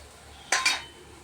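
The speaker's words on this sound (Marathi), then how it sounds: "आता मी त्याच्यामध्ये टाकते ही चटणी." Chutney tipped into a hot kadhai of fried onions gives two quick, close clinks and scrapes against the pan, then settles into a soft low hiss with no talking.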